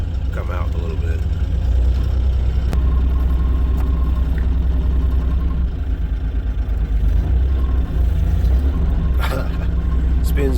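A Bobcat E42 excavator holds a steady, loud hydraulic engine drone while its grapple spins, with occasional clanks and a brief metallic clatter near the end.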